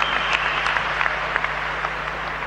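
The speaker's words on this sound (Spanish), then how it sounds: "Un aplauso para el pueblo de los Estados Unidos." An audience applauds at a community doctors' graduation ceremony, a steady dense wash of clapping that holds evenly at moderate loudness through the whole moment without any talk over it.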